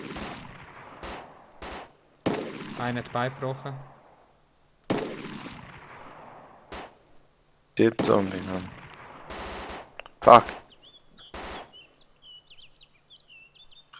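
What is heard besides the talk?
gunfire shooting zombies in video game DayZ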